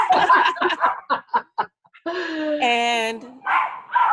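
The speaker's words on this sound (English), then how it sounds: "I'm outside, so you hear little dogs and stuff in the neighborhood" Small neighborhood dogs bark and yip outdoors in a quick series of sharp barks, followed by a longer whiny vocal sound; the barking is fairly loud and close.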